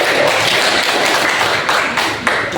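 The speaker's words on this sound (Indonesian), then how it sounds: "Tepuk tangan dulu dong buat kawan-kawan." Students in a classroom clap for their classmates, a dense, steady burst of applause filling the room at close range for a couple of seconds.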